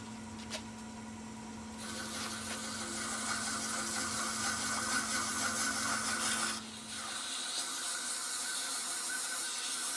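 Sandpaper rubs against a spinning wooden piece on a lathe, a steady dry rasping hiss over the hum of the machine that runs for several seconds, then briefly dips and carries on.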